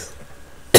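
Near-silence is broken at the very end by a single loud, sharp cough close to the microphone.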